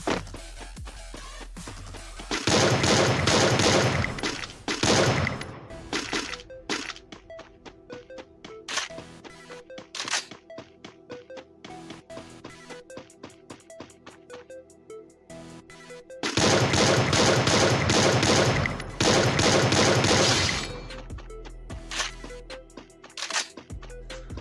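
Gunfire in the Free Fire battle royale game, with two dense loud bursts of rapid shots separated by a quieter stretch of scattered single shots and clicks, with no talk.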